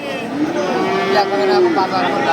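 A Friesian bull calf at a busy cattle market gives one long, loud, close moo with a slowly rising and falling tone, held for well over a second amid faint crowd noise.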